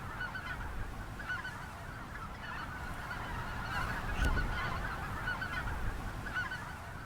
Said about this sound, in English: Did flush some of the greater white-fronted geese